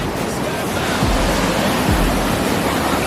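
Rushing water roars as a loud, continuous broadband wash close to the microphone, with some buffeting wind noise and no talk.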